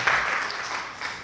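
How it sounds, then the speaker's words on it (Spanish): Brief burst of congregational applause in a church service, many hands clapping together at once, moderately loud and fading slightly toward the end. "Dele un fuerte aplauso al Señor y se puede sentar."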